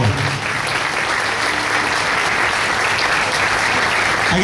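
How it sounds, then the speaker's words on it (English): Sustained applause from a crowd at a county steer show fills an indoor arena, loud and dense clapping that continues steadily without a break. "Give these exhibitors a huge round of applause if you would."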